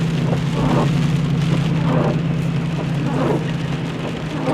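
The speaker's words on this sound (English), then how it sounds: "the rain is turning into snow" Steady rain turning to snow patters and hisses on a surface, continuous and fairly loud, with no voices.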